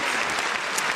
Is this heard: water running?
no